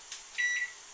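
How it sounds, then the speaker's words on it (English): A kitchen cooking timer beeps once, a short thin high electronic tone over a quiet room hum, preceded by a faint brief click. "There's the beeper"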